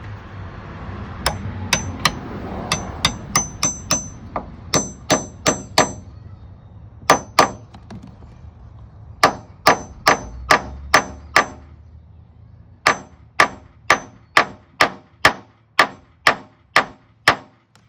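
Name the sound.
tool removing old door hinge liners on a Jeep JK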